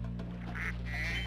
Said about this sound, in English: there's a duck over here